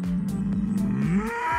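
Aberdeen Angus cattle, a hardy breed from northeastern Scotland, moo in a long drawn-out low call that rises slightly near the end, loud and close with no talking.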